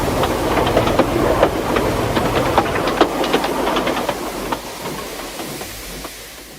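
A goods train hauling freight cars pulls away: steady low rumbling with irregular metallic clanks and clicks that thin out as it moves off.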